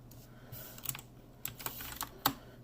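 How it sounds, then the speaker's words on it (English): Soft, irregular computer keyboard typing, a few quick clusters of clicks with pauses between them, close and fairly quiet. "you are going to see how lazy I am at typing"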